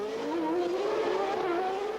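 Formula 1 cars at the 1991 Monaco Grand Prix, a loud, continuous high-pitched engine scream with a slowly rising tone as a car passes close by on the street circuit.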